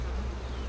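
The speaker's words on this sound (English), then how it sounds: "There sure is a lot of bees." A dense crowd of honey bees hums loudly and evenly from an open, heavily populated hive during an inspection, a thick unbroken buzz up close.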